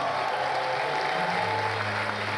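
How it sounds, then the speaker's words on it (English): A breakfast audience claps for honored scholars at a school awards event, with continuous applause under a faint hum and some crowd murmur. "Clap, give these men a round of applause."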